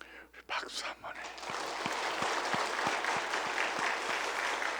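After a brief quiet moment, a church congregation breaks into steady applause with a rhythmic clap pulse underneath, moderately distant.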